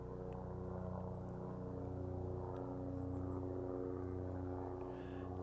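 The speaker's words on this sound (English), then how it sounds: "We got a little helicopter here over coming from Chevron over by the airport." A small helicopter flying overhead near an airport, a steady low rotor and engine drone that holds constant and fairly distant throughout.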